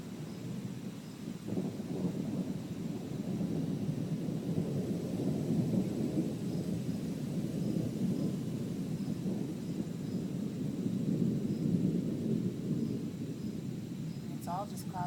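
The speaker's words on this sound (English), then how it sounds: "This is so much lightning, it never stops rolling." Thunder rolls on and on during a cloud-to-cloud lightning storm with no rain, a deep, sustained rumble filling the air for many seconds, with faint voices now and then.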